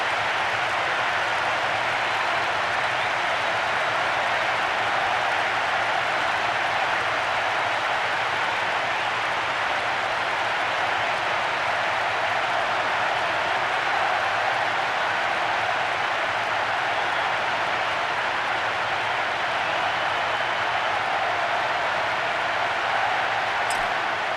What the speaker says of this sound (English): There is nowhere quite like this for noise. The capacity crowd getting behind their team.